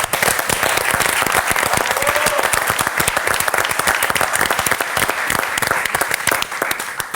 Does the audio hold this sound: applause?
yes